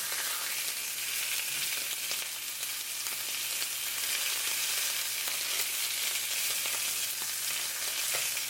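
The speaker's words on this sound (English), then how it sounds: "And we'll let that sear for about 2 minutes, 1 minute on each side." Steak searing in a hot pan, a steady close sizzle and crackle of fat that holds loud and even throughout with no voices.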